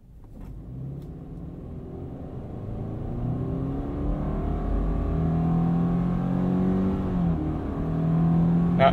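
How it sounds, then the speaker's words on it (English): A 2020 Subaru Forester Limited accelerates at full throttle with the air conditioning off. The engine drone climbs steadily in pitch and loudness for about nine seconds, heard from inside the cabin with no talking. "and then full throttle, let's turn the AC off."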